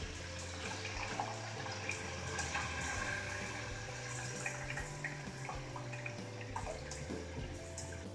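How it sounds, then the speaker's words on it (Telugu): Tamarind juice splashes and trickles into a fried spice paste for a village-style fish gravy, a continuous wet pouring sound under steady background music. "ఈ పేస్ట్లో చింతపండు రసం పోసుకోవాలి"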